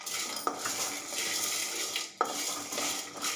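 A metal spoon stirs peanuts and cashews roasting in a dry pan, giving scraping, rattling strokes with sharp clinks against the pan's rim at two points.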